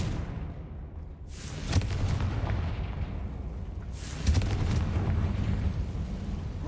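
Two heavy fiery explosions from the Confringo spell in Hogwarts Legacy gameplay, each a sudden loud blast that rolls into a crackling, rumbling tail, about two and a half seconds apart.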